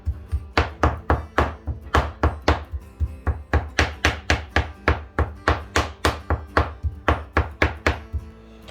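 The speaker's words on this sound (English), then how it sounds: "I'm mincing it up pretty good. Getting it pretty well mixed in together." Wild gadwall duck meat being minced with bacon fat on a board, a fast, steady run of sharp knife chops, close and loud, with no talking.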